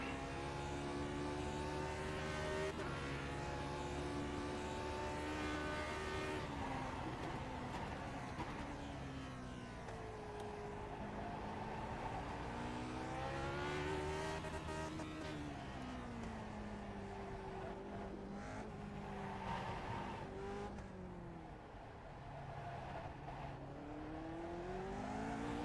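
A Lotus 49 race car screams around Sandown in the iRacing sim, its engine note climbing and falling continuously through gear changes and corners, loud and unbroken throughout.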